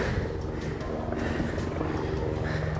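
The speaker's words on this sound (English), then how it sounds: "at least the rescue helicopter's not too far off" A rescue helicopter flies nearby over the hills around Arthur's Seat in Scotland, a steady low rotor drone holding throughout with wind noise and no speech.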